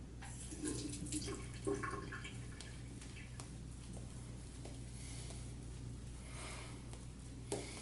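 A bathroom tap runs steadily while shaving cream is lathered with added water, a continuous soft splashing and trickling close by with occasional drips.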